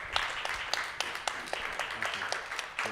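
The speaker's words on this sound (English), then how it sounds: "And a big round of applause for the panel" An audience applauds a panel at the end of a discussion, a short burst of scattered hand clapping heard at moderate distance.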